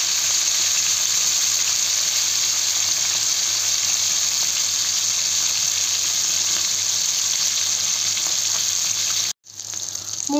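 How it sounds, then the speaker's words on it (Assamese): Fish frying in a pan for an Assamese home meal, a loud, dense, continuous sizzle and crackle of hot oil heard close up, unbroken for about nine seconds before a sudden brief cutoff. "মাছখিনি ভাজি লওঁ"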